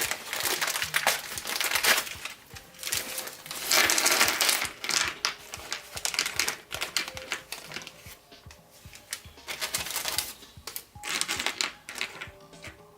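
A plastic bag of new windshield mounting hardware for a Yamaha FJ-09 motorcycle is handled up close, giving crinkling and rustling with small metallic clinks from the screws inside. The sound comes in irregular bursts with no talking.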